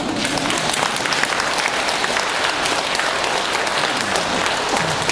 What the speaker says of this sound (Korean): 왜 박수가 나와?